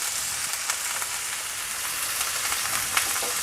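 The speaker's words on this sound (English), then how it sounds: "You hear a nice sizzle." Chicken sizzles and crackles in hot oil, a steady bright hiss with small pops scattered through, nobody speaking.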